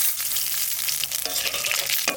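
Cumin seeds and dried chilies crackle and sizzle as they hit hot mustard oil in a wok, a close, continuous frying hiss with sharp spattering pops.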